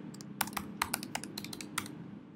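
A password typed on a computer keyboard: a quick, uneven run of close, crisp key clicks over a faint steady hum.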